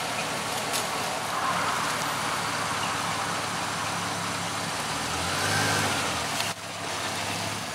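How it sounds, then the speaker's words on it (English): A pickup truck drives over a foam gun rest outdoors, a steady engine rumble with broad road and wind noise held close throughout and a brief dip near the end. "I'm fixing to run over it with my pickup truck"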